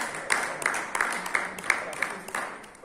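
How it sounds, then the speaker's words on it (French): Scattered hand claps ring out from the audience at a closing ceremony in Brussels, a run of fairly even, separate claps at a moderate level rather than a big roar. "on peut aussi les applaudir"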